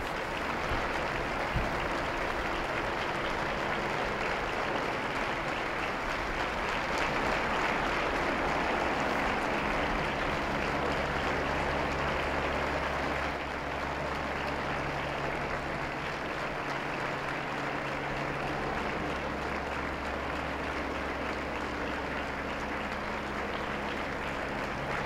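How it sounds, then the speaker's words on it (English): Sustained applause fills the San Damaso courtyard of the Apostolic Palace at the Vatican as the Pope walks out, a steady crowd clapping throughout with a slight dip midway, fairly loud and without speech. "a chorus of applause greets the Holy Father as he walks out into the San Damasenso courtyard in the Apostolic Palace"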